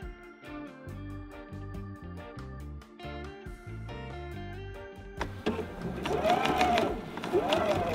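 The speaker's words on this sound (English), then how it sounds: "we are just gonna go and sew around quarter inch" A sewing machine stitches an envelope pillow cover a quarter inch from the edge, its motor whirring in bursts before a louder, sustained run near the end, with a voice talking over it at first.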